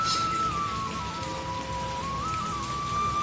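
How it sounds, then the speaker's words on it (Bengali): Steady rain pours onto a rooftop in the middle of a long downpour, a dense continuous patter close by with a faint thin whistle-like tone running beneath it. "করে বৃষ্টি পড়ছে তো বৃষ্টির ভিতরে চলে আসলাম ছাদে"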